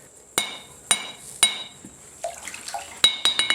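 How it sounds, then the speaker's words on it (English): Hot coil spring steel is hammered on a wetted anvil while forging a knife blade, giving sharp ringing metallic strikes with bursts of steam crackle between them, close and loud, with a quicker run of hits near the end. "I forge with water on the anvil because it creates a small steam explosion between the hot steel and the anvil"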